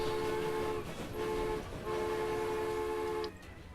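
Train in the video game Transport Fever, running with a steady mechanical rumble and a sustained horn-like tone that sounds in three long blasts with short breaks between them, loud and with no talk.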